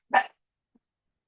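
A single sharp dog bark rings out close and loud in an apartment, then silence follows.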